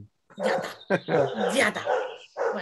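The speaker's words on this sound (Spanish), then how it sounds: "Y ese es mi perro de fondo, que no sé si lo estáis oyendo" A pet dog barks and yips in a series of short, irregular bursts at home, mixed with someone speaking.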